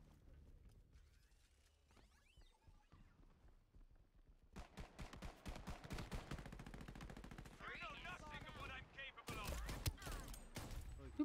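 Rapid automatic gunfire in the shooter Shatterline, starting faint and growing into sustained rattling bursts with mechanical clicks, at low overall level, with a voice speaking in parts.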